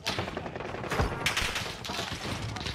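Rapid gunfire erupts in a Call of Duty Warzone match on Rebirth Island, with close, loud bursts of automatic shots crackling in quick succession and overlapping one another.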